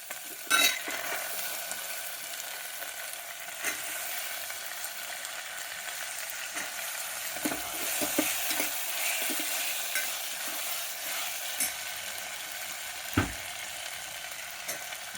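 Green peas frying in a pan for a curry, a continuous hiss of sizzling oil with scattered light scrapes and taps of a stirring spoon, fairly close and steady, without speech.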